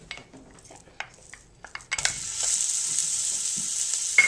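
Chorizo dropped into hot olive oil in a pan over medium-high heat, a few clinks and handling noises, then a sudden loud, steady sizzle that continues to the end.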